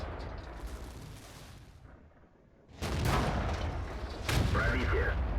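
The SU-152 tank destroyer's heavy cannon fires in the World of Tanks video game, a loud booming blast with a rumbling tail, followed by a second heavy impact or shot moments later.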